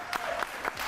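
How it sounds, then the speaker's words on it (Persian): A TV studio audience applauds briefly, a dense patter of claps with a few sharper accents, moderately loud and heard on its own. "باریکلا تشویقش کنید"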